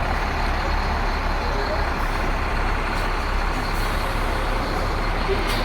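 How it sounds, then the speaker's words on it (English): A box truck reverses on a practice course, its engine droning loud and near beneath a dense, continuous rumble. Faint hiss or beep-like tones come and go on top, and a voice may be speaking under the noise. "this is his first try backing the truck. Now this is a box truck."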